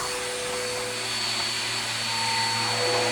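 A Sanitaire SC679J upright vacuum cleaner runs upstairs: a loud, steady motor whine with a high constant tone, droning evenly and alone with no talk.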